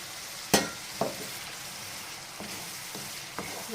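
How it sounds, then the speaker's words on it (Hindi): Spices with Kashmiri chilli frying in a pan for an egg and spinach curry, a steady quiet sizzle broken by a few sharp stirring clicks, no voices. "तो हम मसाले को अच्छी तरह भूनते हैं।"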